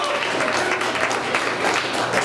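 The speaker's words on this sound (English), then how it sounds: "Can I have a big round of applause for our little princess?" Comedy club audience applauding, steady and fairly loud clapping with a few voices mixed in, filling the whole short stretch.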